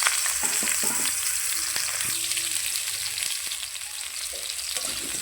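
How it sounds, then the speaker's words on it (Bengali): Cut potatoes frying in a hot pan make a dense, continuous sizzle up close, with a few faint scrapes and clinks of stirring underneath. "দিয়ে এটাকে আমি ভালো করে একটু ভেজে নেবো ভালো করে।"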